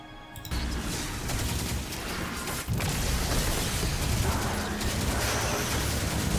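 A submachine gun firing in the video game Destiny, with a dense, continuous rattle of rapid shots and booms that fills the whole stretch after a brief quiet opening.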